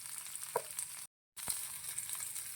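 Onions sautéing in a pan for a tomato dish, a soft steady sizzle with light stirring scrapes and a clink, broken by a short moment of silence before the frying resumes.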